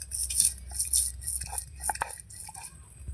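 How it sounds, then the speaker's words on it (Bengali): Ginger being ground by hand on a spice stone in a home kitchen, giving soft, irregular scraping and wet squishing strokes with occasional light knocks, fairly quiet and close, with no talking. "প্রথমে আমি আদাটা বেটে নিচ্ছি"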